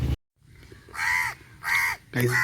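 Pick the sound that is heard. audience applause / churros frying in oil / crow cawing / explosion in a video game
crow cawing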